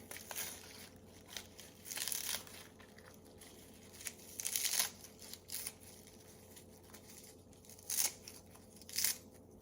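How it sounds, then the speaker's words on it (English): Faint snipping and crinkling of scissors cutting counter-grown fresh greens come in scattered bursts, a few sharp cuts spaced irregularly over quiet background hum. "We're going to take our scissors."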